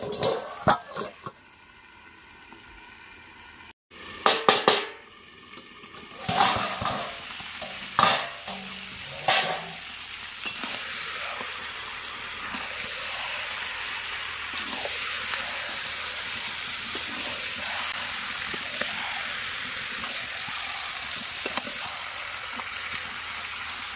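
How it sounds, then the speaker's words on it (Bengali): Chicken curry stirred in a pot once the lid comes off: a few clattering knocks at first, then a long steady sizzle with soft spoon scrapes and bubbling, close and even, without talk. "তো ঢাকাটা খুলে সব নেড়ে দিলাম একবার ভালো করে"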